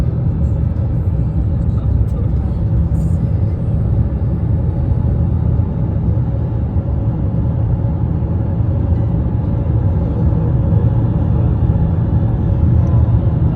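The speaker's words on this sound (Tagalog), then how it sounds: "Ganyan ka-traffic ang Highway 1 ng Abbotsford papuntang Vancouver." Heavy morning traffic on Highway 1 from Abbotsford toward Vancouver, a steady broadband rumble of many cars and trucks rolling along continuously at moderate distance, with no voices over it.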